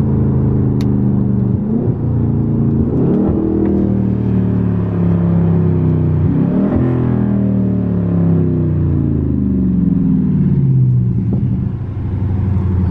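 A 2022 Dodge Charger Scat Pack with muffler and resonator deleted and 5-inch tips downshifts, its loud, deep exhaust rumble rising and falling through several rev changes, with a faint pop along the way.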